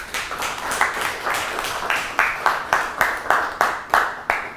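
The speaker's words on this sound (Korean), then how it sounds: "박수!" Rhythmic group clapping from a lecture audience, brisk evenly spaced claps that grow slightly louder and more unified, with no one speaking over them.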